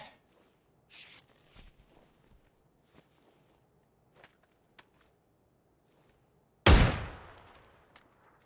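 Gunfire in PUBG: scattered light footsteps and small clicks in near silence, then one loud close gunshot with a ringing tail trailing off.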